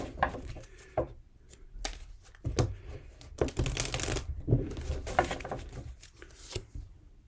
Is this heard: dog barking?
no